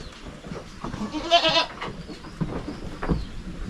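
Goats bleat on a provincial farm where many have recently given birth, a cluster of wavering calls rising near the middle and a few softer ones after, over light rustling ambient noise.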